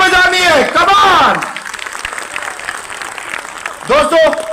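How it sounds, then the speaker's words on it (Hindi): Audience applause fills a hall at a corporate 21st-anniversary event, a sustained wash of clapping between stretches of someone speaking over a microphone at the start and end. "और एक बार जोरदार तालियां अपने लिए बजानी है।"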